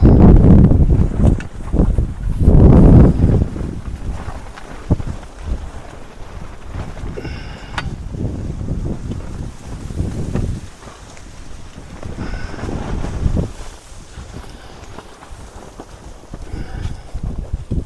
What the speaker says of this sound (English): And the wind's picking up as well.